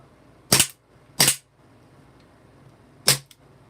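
A CO2 air pistol with no ammo fires three sharp, loud snapping shots, two in quick succession and a third after a pause, each with a short hissy tail.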